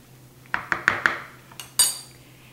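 Spoon scraping and clinking in a bowl while salt is mixed into homemade salsa, a quick run of four sharp taps followed by two more knocks, close and fairly quiet.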